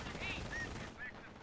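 Sniper rifle shots ring out in a World War II strategy game involving Wehrmacht troops, a few quick cracks and pings over a busy, faint battle background.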